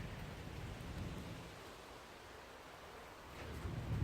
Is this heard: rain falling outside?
yes